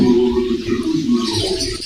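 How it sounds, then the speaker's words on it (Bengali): Java sparrow chicks in a cage on a farm give a steady, close twittering chatter that runs throughout, with soft low coo-like bird sounds underneath. "এখানে কিছু জবা পাখির বাচ্চা রাখা হয়েছে"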